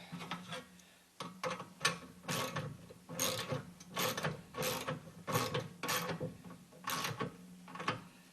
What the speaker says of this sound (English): With this one, I'm going to go with a wrench on the inside.